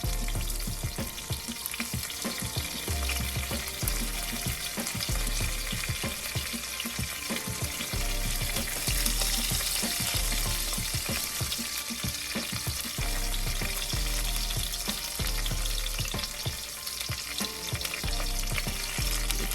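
Garlic and torn curry leaves fry in oil in a pan for a bhindi fry dish, giving a steady, loud sizzle and crackle throughout with occasional stirring clinks.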